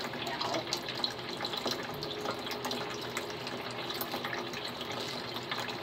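A sink tap runs steadily with a continuous close splashing gush of water that stays at an even level throughout, with a few faint clinks over it.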